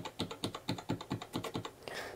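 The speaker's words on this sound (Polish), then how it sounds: "To ma być klawiatura mechaniczna. Jest tak cicha, że prawie jak membranówka." Keys on a SteelSeries Apex M800 mechanical keyboard are pressed one after another in a quick, regular run of about a dozen soft, muted clicks, close up and quiet, with no talking.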